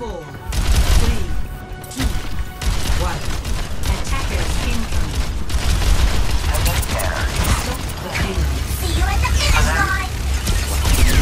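Rapid automatic gunfire from D.Va's mech in Overwatch 2, a dense sustained stream of shots mixed with booms, mechanical game effects and background match sounds, loud throughout the stretch.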